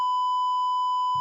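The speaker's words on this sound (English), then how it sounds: "it just beeps them out" A loud, steady censor bleep, a single continuous pure electronic tone lasting the whole moment with a faint hum at the very end.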